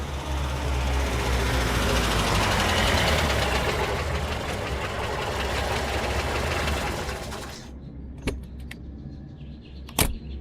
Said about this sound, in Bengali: গাড়ির আওয়াজ শুনেই বুঝেছি আপনি এসেছেন